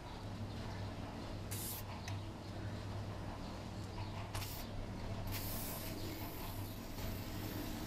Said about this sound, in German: Kann man schon dünn sprühen, wenn man nicht so doll drauf drückt, ja?